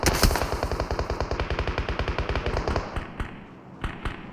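Automatic gunfire in PUBG Mobile on the Livik map: a fast, loud burst of rapid-fire shots lasting a couple of seconds, followed by a few scattered single shots fading out.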